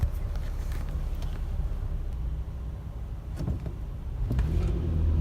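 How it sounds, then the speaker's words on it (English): A Tesla Model X pulls away from a standing start, a steady low vehicle rumble that swells near the end, with wind noise on the microphone throughout. "That car right there is a Tesla Model X."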